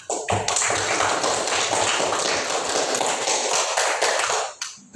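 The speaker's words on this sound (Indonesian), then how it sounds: "berikan aplaus buat kelompok 3 dulu" A classroom of students applauding a student group, a dense burst of clapping from many hands that runs steadily for about four seconds and then stops abruptly.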